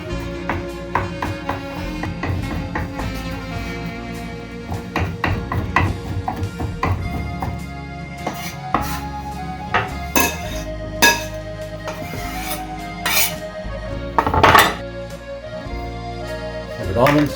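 A knife taps and clicks against a cutting board while craisins are cut for a kale and apple salad, with irregular close chopping strokes and occasional clinks of dishes. Someone speaks in between.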